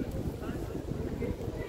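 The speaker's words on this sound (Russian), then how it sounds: "потому что ветер сильно шумит." Strong wind buffeting a microphone outdoors in central Kraków, a continuous low rumbling roar dominating the clip without a break.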